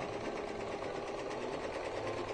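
A sewing machine runs steadily, stitching a fabric pouch for a zippered toiletry bag, with a continuous close whirring and rapid needle chatter throughout, no voices.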